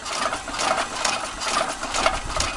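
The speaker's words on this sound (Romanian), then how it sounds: "Avem un motor de 12 volți, avem două greutăți, avem un motor dinam" A 12-volt motor coupled to a dynamo, part of a weighted gravity-generator rig, runs with a steady, close buzzing whir that holds even and continuous throughout, with no voices.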